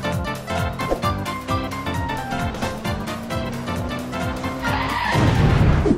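A car in a driving video game revs through rapid upshifts, its engine tone climbing and resetting, then tires break into a loud hissing skid near the end.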